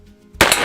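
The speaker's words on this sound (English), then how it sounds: "Let's put a few rounds on the Ghost to Cowboy Bob." A single sharp gunshot from a Heritage Rough Rider .22 Magnum revolver fired outdoors at targets, loud and close, cracking out suddenly after a quiet moment with a short ringing tail.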